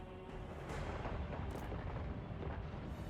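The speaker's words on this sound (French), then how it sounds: "Ah oui, ils ont des canons quand même." Dense, rumbling booms of cannon fire in the video game Immortal Empire roll on continuously, heavy and low, with sharper blasts popping through now and then.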